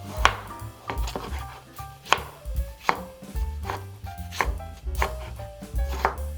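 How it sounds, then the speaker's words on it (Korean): A knife chops four small tomatoes into bite-size pieces on a board, giving a steady run of sharp, close taps with no talk. "토마토를 그냥 적당한 한 입 크기로 잘라줄게요"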